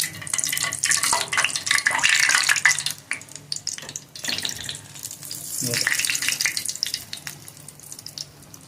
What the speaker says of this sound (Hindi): इसको हम इसमें डीप फ्राई करेंगे इस तरीके से। गोल्डन ब्राउन फ्राई करना हमें इसको।